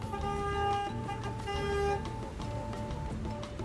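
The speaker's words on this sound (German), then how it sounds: "Aber generell ist sehr reger Verkehr und die Leute hupen die ganze Zeit und es gibt immer Alarm." Car horns honking in heavy traffic in Lima, several overlapping toots and longer blasts over a continuous rumble of engines, moderately close.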